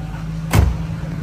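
A 1996 Ford Mustang GT convertible's door shuts with a single muffled thump over the idling V8's steady rumble, heard close by.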